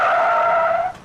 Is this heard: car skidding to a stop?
yes